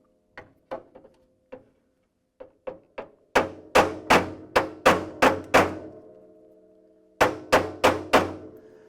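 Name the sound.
hammer beating car body metal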